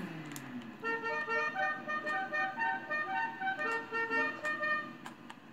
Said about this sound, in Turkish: Oha dur dur bir korna çalsana